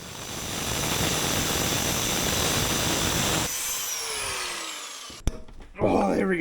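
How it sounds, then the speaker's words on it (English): An angle grinder cutting slots into screw heads on a Toyota e-locker actuator, a loud steady high whine that changes pitch as it spins down, then a sharp click, a pause and the grinder rising again. "I'm gonna take my grinder and grind these into slots instead"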